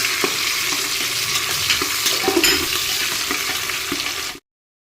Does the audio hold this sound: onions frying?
yes